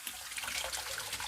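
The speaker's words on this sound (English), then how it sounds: "Of course, you have to wash the potato" Running tap water splashing steadily over a potato being washed at a sink, a short close burst of continuous hissing water with no talking.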